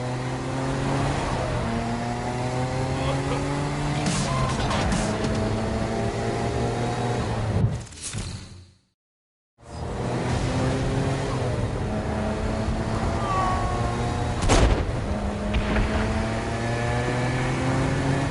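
Car engine in the video game Saints Row: Gat out of Hell, droning steadily with stepped rising pitch as it accelerates and shifts, broken by a brief silent gap and a sharp impact, with no talking.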